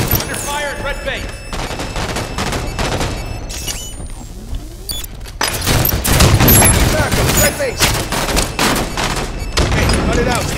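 Rapid multiplayer gunfire from Halo 5 Guardians on a Slayer match at Eden's red base, dense overlapping bursts with booms and thuds, loud and continuous throughout with game voice chatter mixed in.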